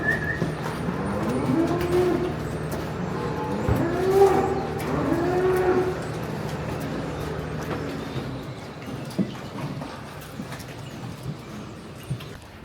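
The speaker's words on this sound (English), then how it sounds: "Just bringing the 4th batch of cows in here." Several cattle moo and low nearby in a barn in overlapping calls over the first half as they are brought in, then the sound settles into quieter barn ambience with occasional knocks.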